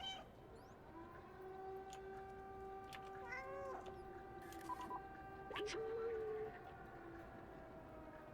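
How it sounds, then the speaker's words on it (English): A cat meows in a few short, rising and falling calls near the middle, set against a steady tonal hum and faint background noise. "Just keep meowing and"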